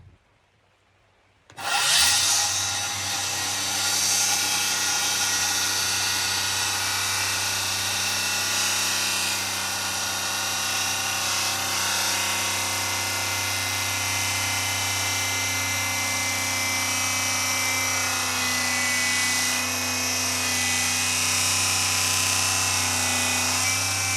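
A Sawzall reciprocating saw starts abruptly after a brief silence and cuts wooden stair parts for foldable stairs, a loud, steady buzzing drone with a strong low hum that runs unbroken to the end.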